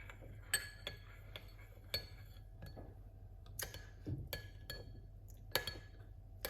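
A spoon clinks against a glass while stirring a pinch of cayenne pepper into a drink, sounding as scattered light, sharp taps at an uneven pace in a quiet room.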